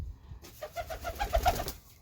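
Pigeons coo in a backyard loft, a run of soft repeated coos through the middle of the recording over low background rumble, moderately near with no talking.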